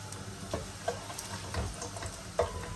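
Fenugreek (methi) tossed into garlic sizzling in a hot pan for spinach kadhi gives a steady close crackle, with a few soft stirring taps and light pops.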